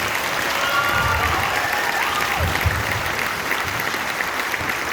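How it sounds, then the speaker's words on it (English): An audience in a school hall claps for a high school concert band, a dense sustained round of applause with a few faint voices mixed in. "One more round of applause just for them to have the courage to come up here and do that."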